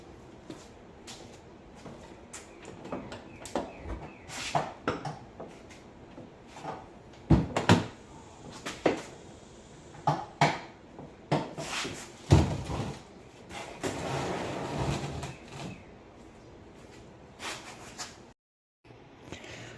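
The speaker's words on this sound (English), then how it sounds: "Go ahead and just drop this door, I guess, take it off and put it away." A car door is unbolted and lifted off a salvage auction vehicle, with a scatter of metallic clunks, knocks and rattles in irregular bursts, then a short silence near the end.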